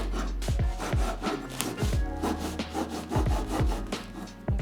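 Bread knife sawing through bolillo bread rolls in quick repeated back-and-forth strokes, a close, crisp rasping rhythm with no talk.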